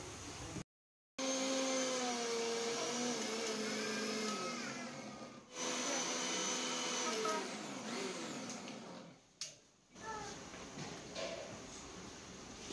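A mixer grinder whirs loudly and steadily as it grinds hibiscus flowers into a paste for hair care. The motor cuts out briefly near the start, and its pitch dips and shifts a couple of times during the run.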